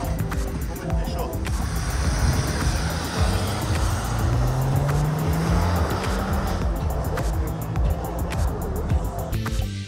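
A Toyota Stock Car race car accelerates hard on track, its engine roaring loudly and steadily while tires squeal. A voice talks over the continuous engine noise.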